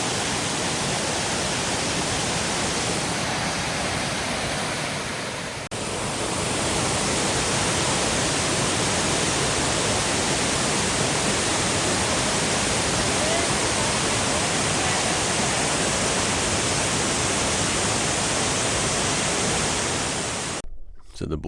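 Big waterfall near Naone village roaring as a loud, continuous broadband rush that holds steady throughout before cutting off at the end.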